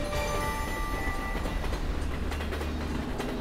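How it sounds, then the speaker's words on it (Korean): A train runs along the rails near Jejin Station, a continuous loud rumble with a rhythmic clatter and a faint high ringing whine, and no voices over it. "2007년 남북 화해의 분위기를 타고 북에서 반가운 기차가 달려옵니다."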